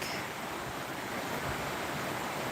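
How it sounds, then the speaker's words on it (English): A creek flows in a steady, loud rushing wash of water, continuous and close with no voices. "Let me show you guys the creek."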